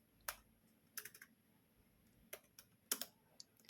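Scattered, quiet clicks from a computer keyboard as ABAP code is typed, coming in short irregular bursts with pauses between them in a quiet room.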